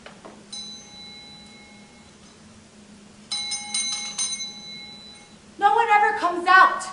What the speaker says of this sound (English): And of course, we have the bell.